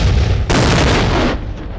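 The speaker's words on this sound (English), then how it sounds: "We're doing a large explosion over in that area." Staged special-effects explosion of cork and dirt on a film set, a sudden loud boom that roars and rumbles for about a second before cutting off to a lower background rumble.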